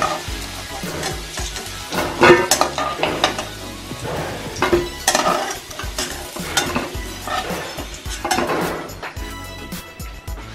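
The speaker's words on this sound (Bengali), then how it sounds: "আলুগুলো দেখছেন লাল লাল ভাজা হয়ে গেছে, এবার আমি আলুগুলোকে তুলে নেব।" Potatoes frying in a pan until red and browned, ahead of a Bengali rui fish curry: a steady close sizzle broken by repeated scraping stirs and light metallic clinks of a spatula against the pan.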